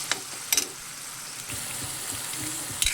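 Onion, ginger and garlic paste frying in a pan, a steady close sizzle with a few sharp spoon clinks and scrapes near the start and the end.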